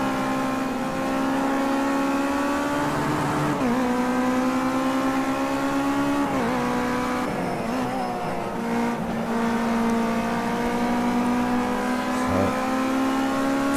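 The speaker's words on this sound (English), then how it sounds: "we're on that limiter as we brake heavily down into turn one" A Ginetta G40 GT5 race car in a racing video game at Indianapolis Motor Speedway screams at high revs, bouncing off the rev limiter in a steady sustained drone with brief pitch dips during shifts and braking, loud and continuous.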